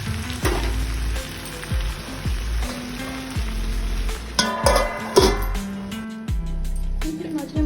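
Ivy gourd (kundru) slices frying in oil over a low flame, a steady close sizzle broken by repeated scraping and stirring knocks, with a faint voice in the background.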